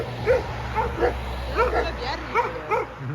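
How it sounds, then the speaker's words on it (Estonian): Dog barking and yipping from the roadside near scrubby bushes, a series of sharp barks at moderate distance, heard under people talking. "Me tulime natuke võssi, et seda koera eirata."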